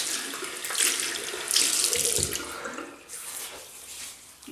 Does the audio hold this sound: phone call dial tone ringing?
no